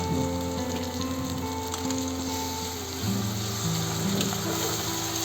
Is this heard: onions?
yes